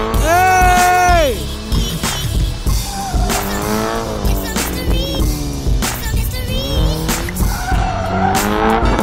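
A car's tires squeal loudly and skid as it spins out, with sweeping, wavering screeches repeating across the run and voices breaking in now and then.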